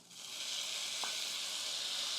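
Rice and abalone sizzle steadily in a hot pan, soaked glutinous rice frying with abalone and its innards, a continuous bright frying hiss with a single light scrape of stirring midway.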